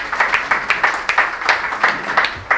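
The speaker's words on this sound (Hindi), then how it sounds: "कृपया तालियों से स्वागत करें।" Audience at an anti-human-trafficking workshop in Patna claps to welcome guests, a steady, moderately loud round of applause with a regular, slightly uneven beat from a modest crowd, with no voices over it.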